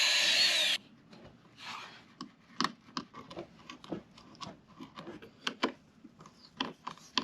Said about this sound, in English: Now I gotta drill this hole out.